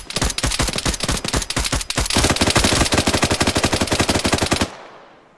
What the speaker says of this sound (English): somebody stop these guys from shooting